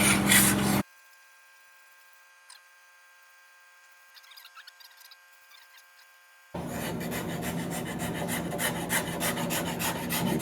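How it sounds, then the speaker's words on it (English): A metal scraper shaves and smooths the wood of a stringed instrument in a luthier's workshop. A short rasping burst is followed by a near-silent pause, then a long, steady, close scraping that continues to the end. "high-tech device known as a piece of metal scraper"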